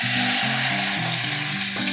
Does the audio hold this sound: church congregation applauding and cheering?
no